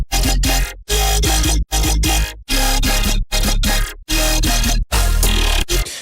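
A loud electronic music drop from a Colour Forge demo track, with heavy bass and rapid gated bursts chopped by short silences in a stuttering rhythm.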